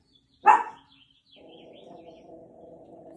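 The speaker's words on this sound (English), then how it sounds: "while my dog Frisbee barks in the background" A dog barks once, loud and close, followed by a lower, steady rumble of background noise during a quiet yoga session at home.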